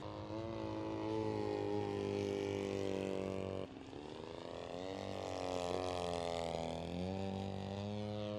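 The engine of an AJ Aircraft 103-inch Slick 540 RC plane, running a little rich, drones steadily in flight. Its pitch shifts and swells slightly as it climbs, moderately loud, with no speech.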